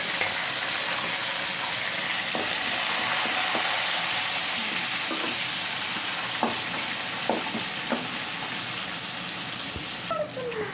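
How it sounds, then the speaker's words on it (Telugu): Potato pieces frying in a pan for vangi bhat, giving a steady, close sizzle with occasional clinks and scrapes of stirring throughout. "ఒక 2 minutes వేగించుకోవాలి"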